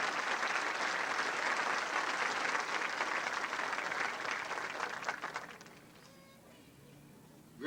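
A large crowd claps for board members at a high school graduation ceremony, loud dense applause filling the hall for about five seconds before tapering off into quiet room noise.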